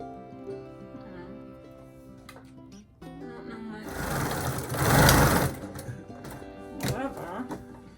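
A sewing machine for quilting runs in a fast, loud mechanical chatter for a couple of seconds, with softer stop-start stitching around it, and people talk nearby.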